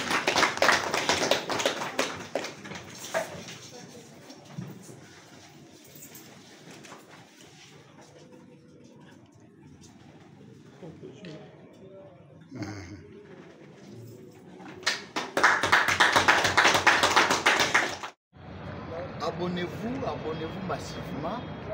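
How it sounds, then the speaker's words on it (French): An audience claps at a centenary commemoration ceremony in a hall, with bursts of applause rising and falling over roughly twenty seconds, loudest toward the end, mixed with voices talking in the room. "Sous nos applaudissements."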